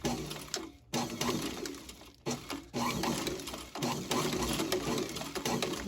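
A sewing machine stitching a boot during repair, loud close rapid mechanical chattering in runs broken by brief pauses as the work is repositioned.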